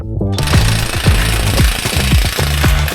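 A cordless impact tool works on a car wheel during a wheel bearing job. It gives fast, loud hammering bursts about every half second, near and alone.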